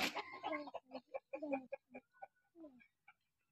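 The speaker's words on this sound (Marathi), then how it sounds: "अयो किती कोंबड्या आहे?" Chickens in a Maharashtra village flock cluck in a quick run of short calls close by, easing off and thinning out toward the end.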